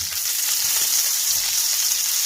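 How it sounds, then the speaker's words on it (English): A hot pan that has just seared Kagoshima Wagyu is deglazed with liquid for a pan sauce, giving a loud, steady, close hiss of sizzling that holds without a break. "I'm going to deglaze that, and that's going to form the base of the pan sauce"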